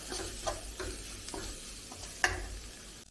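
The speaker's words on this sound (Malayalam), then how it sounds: "മല്ലിപ്പൊടി ഇതെല്ലാം കൂടെ ഇളകി ഇളക്കി അതിൻ്റെ പച്ചമണം ഒന്ന് മാറി വരണം" Coriander powder and spice powders being stirred in a hot pan for egg masala, a soft scraping sizzle with a few sharper spoon taps against the pan, one louder clink near the end, no talking.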